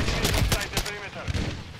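Video game gunfire while trying to shoot through a wall: several loud, sharp shots in quick succession, fading into reverberant tails, heard alone without talk.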